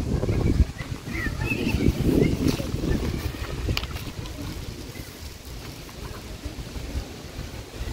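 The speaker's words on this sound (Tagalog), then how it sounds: "Dito mahangin." Strong outdoor wind buffeting the microphone at a park, a continuous rumbling roar that is loudest at the start, with voices heard faintly underneath.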